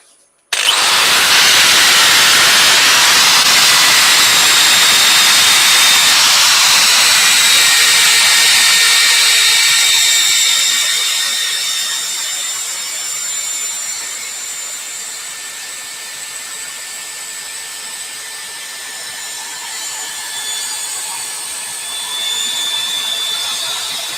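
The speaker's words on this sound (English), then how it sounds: "Just get this quickly sanded off." A turned wooden vase is power sanded on a lathe. A loud, continuous whirring hiss carries a steady high whine, then drops to a quieter, softer level partway through as the speed eases.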